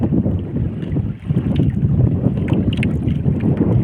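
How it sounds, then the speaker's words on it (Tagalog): Strong, steady wind buffets the microphone outdoors, a continuous low roar with gusts and faint water sounds, no voices. "napapansin nyo, mahangin na."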